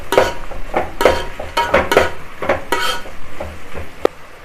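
Tomatoes and green chillies sautéing in a pan for a chicken masala gravy, with a spatula scraping and clattering against the pan in irregular bursts over a soft sizzle, close and fairly loud.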